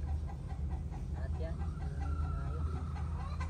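Stag rooster clucking in a farmyard, short repeated clucks close by over a constant low rumble, with people talking nearby.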